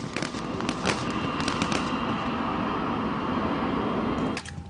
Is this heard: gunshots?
yes